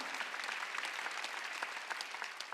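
A church congregation claps together during a Wednesday worship service, brisk dense applause with sharp individual claps standing out, sustained and moderately loud without talk.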